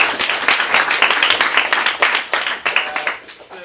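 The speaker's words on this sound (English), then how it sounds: "We get one more round of applause for Jeff." Audience clapping for a speaker at a high school entrepreneurship talk, a brisk round of hand claps with distinct individual slaps, sustained and fairly close.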